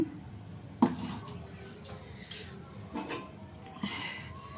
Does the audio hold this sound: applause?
no